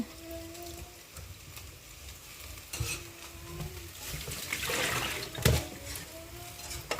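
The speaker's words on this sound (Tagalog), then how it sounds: "Si Kuya yung nagluluto ng bihon with sardinas" Bihon noodles with sardines being stirred and fried in a pan, a soft steady sizzle with scraping and clattering stir strokes over background noise.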